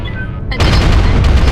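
Incoming missiles strike in MechWarrior Online, beginning with a quieter stretch and then a sudden loud burst of heavy impacts and rumbling booms that keeps going close by.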